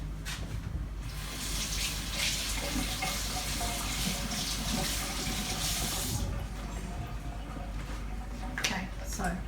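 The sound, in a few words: tap water running to rinse food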